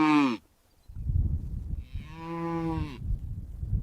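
Dairy cows low in two long, drawn-out moos, one brief and one sustained, over a rumbling, scuffing background of outdoor movement with no talk.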